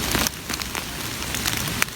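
Steady rain patters on leaves and surfaces in a forest while porcini mushrooms are being picked, a close, dense hiss dotted with scattered drips and small crackles; no speech.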